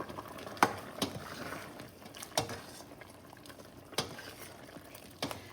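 Chicken curry with fennel powder is stirred in a pot, with a low simmering sizzle underneath and about six sharp scrapes and knocks of a spoon against the pan, spaced a second or so apart.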